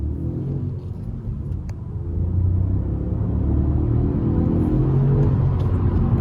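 A Honda Civic SR with a 1.0-litre VTEC turbo engine pulls up through the gears, giving a steady low in-cabin engine drone that swells louder partway through and holds there, with no voices.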